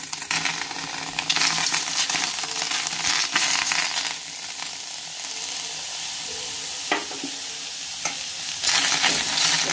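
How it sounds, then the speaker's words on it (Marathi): Tomatoes roast on a hot tawa with a continuous, fairly loud hiss and crackle, marked by a few sharp clicks and scrapes. "तोपर्यंत हे टोमॅटो आहे ना मी भाजायला टाकत आहे।"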